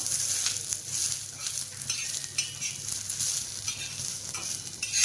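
Mutton and plenty of garlic being sautéed in a pan make a continuous sizzle, with the scrape and clatter of a spoon stirring through it and no talking.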